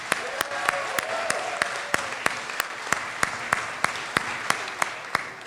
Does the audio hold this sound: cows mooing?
no